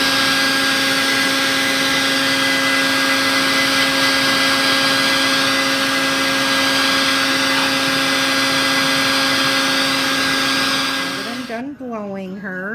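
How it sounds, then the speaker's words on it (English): A pet grooming blower runs on an English angora rabbit with wool mites, giving a loud, steady high-pitched whine and rushing air for about eleven seconds before it cuts off and a voice speaks. "So where we start with is the blower."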